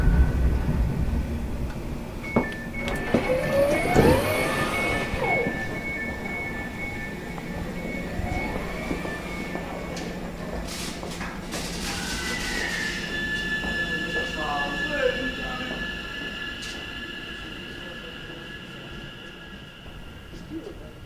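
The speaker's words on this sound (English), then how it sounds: "This is the train to Watford Junction." Passenger train running on rails toward Watford Junction in North London, a steady rolling rumble with brief squeals and clanks, faint talk near the start.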